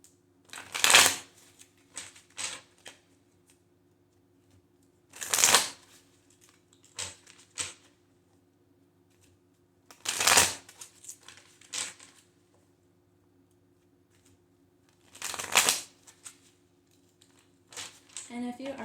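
A deck of tarot cards is riffle-shuffled nearby in four evenly spaced bursts roughly five seconds apart, with light card taps and rustles between them in an otherwise quiet room.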